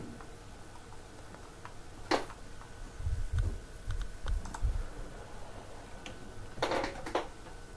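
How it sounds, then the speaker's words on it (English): Keys pressed on a computer keyboard: a scattered series of light, close clicks and taps with irregular timing, heard over a low background hum without any speech. "press the enter button on the keyboard"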